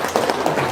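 A short burst of clapping from a small audience at a live talk session, quick and moderately loud.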